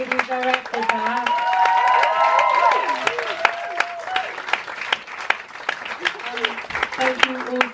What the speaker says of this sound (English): Round of applause for Lizzie Boyd, who directed that.